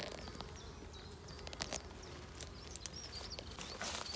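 Honeybees fly in and out of a hive on a warm day, a soft continuous buzzing with brief louder passes close by over a quiet outdoor background.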